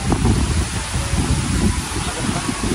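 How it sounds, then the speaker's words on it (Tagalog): Strong wind buffets the microphone, a loud, gusty roar with rustling leaves, continuous throughout. "Ngayon po ay medyo malakas ang hangin."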